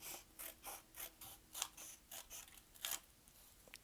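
Scissors snipping lengthwise through paper for a caterpillar craft, a quiet, close series of about a dozen evenly paced crisp cuts.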